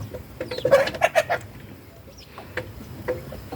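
Three-month-old chicks cluck and peep close by outdoors in a quick run of short calls, then go quieter with a few scattered clucks, with no talking.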